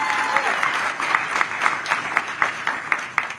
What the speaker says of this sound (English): I'll take applause for that.